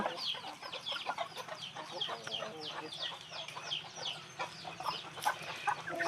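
Aseel hens of an old bloodline cluck and cackle on a poultry farm in a busy overlapping chorus, with short calls coming close and continuously.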